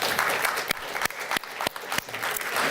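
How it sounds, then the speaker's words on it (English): Conference audience applauds at a regional welcome and introduction, a steady wash of many hands with a few louder individual claps standing out, continuing without talk. "A really good applause to you all"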